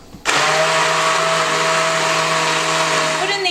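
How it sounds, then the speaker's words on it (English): An immersion blender switches on abruptly in tomato soup and runs with a loud, steady motor whir that holds for several seconds, close by and uninterrupted. "Put in the immersion blender"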